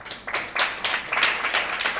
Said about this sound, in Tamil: கைத்தட்டுப்பா.